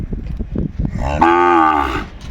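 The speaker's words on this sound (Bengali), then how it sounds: "আমরা দেখছি সামনে বেশ কিছু গরু কালেকশন করছে আমাদের জাহাঙ্গীর ভাই" A single loud, drawn-out moo from Sahiwal cattle at a farm, close by, rising out of low rumbling background noise and fading after about a second.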